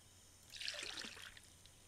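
Clean water poured into small bottles in the survival game Mist Survival, a short soft trickle and splash lasting about a second, fairly quiet and alone.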